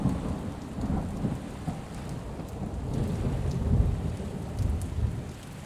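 Rain falling steadily with low rumbles of thunder rolling through, a continuous stormy wash without any voices.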